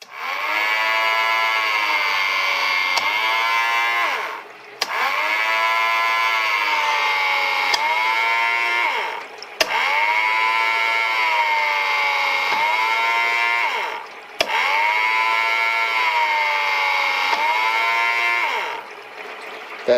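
Lathe motor driven by an Arduino and a single drive, turning a heatsink part held against a live center: a loud, close, tonal whine that rises and falls in four repeated cycles of about five seconds, each broken by a short pause.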